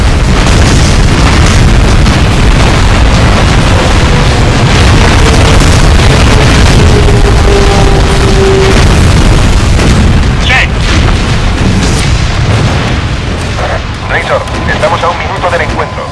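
Heavy bomb blasts from an air raid in the Ace Combat Assault Horizon jet combat game form a loud, near, continuous rumble of booming explosions that rolls on for the whole stretch, with a voice talking over it.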